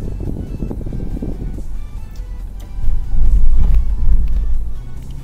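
A car rushes in fast along a road in Muaither, Qatar, its engine and tyre roar swelling loud and close over steady traffic rumble in the second half.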